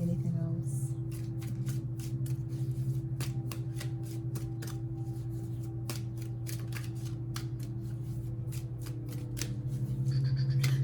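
Oracle cards are shuffled and handled close up, a quick run of crisp riffling snaps and flicks over a low steady hum, with a faint voice briefly audible near the end.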